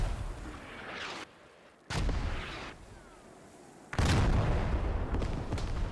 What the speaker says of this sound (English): And here comes the mortars